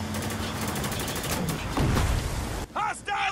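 Gunfire rattles in the video game Spec Ops: The Line, with dense automatic bursts and booms in a continuous barrage, and a voice breaking in near the end.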